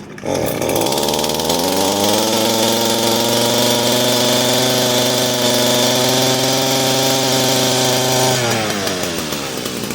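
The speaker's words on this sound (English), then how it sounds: "And then you let it run for a while, get all the air pockets and whatnot out of it." An Echo SRM-225 string trimmer engine, freshly fitted with a new carburetor and fuel line, runs loud and close at steady high revs with a buzzing two-stroke drone, holding even throughout before easing at the end.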